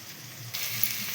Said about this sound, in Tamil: இது நல்லா எண்ணெயிலே வதங்கட்டும்